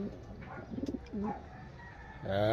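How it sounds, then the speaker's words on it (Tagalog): Pigeons coo close by, with a short run of soft pulsing coos followed by more drawn-out calls, and no one talking over them. "Salamat pagpauwi pa rin tayo ng kompleto pa rin ibon kalapatids"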